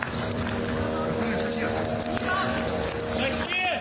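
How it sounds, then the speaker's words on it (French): A steady, multi-toned mechanical buzz of a military attack drone over Ukraine drones on throughout, with a shifting whine above it and busy outdoor noise around it. "Ce vrombissement caractéristique d'un drone."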